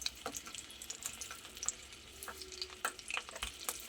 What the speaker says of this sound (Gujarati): હવે આપણે એમાં સીમડા મરચાંને મૂકી દઈશું ગેસની ફ્લેમ લો ટુ મીડિયમ રાખીશું અને એને સરસ ચડવા દઈશું